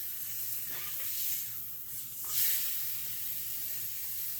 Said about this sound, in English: I find that searing those steaks,